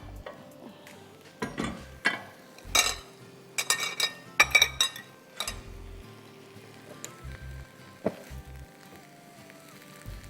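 Ingredients for a cheesy lentil bake are mixed with a utensil, producing irregular clinks and scrapes against a dish in short bursts separated by quiet pauses.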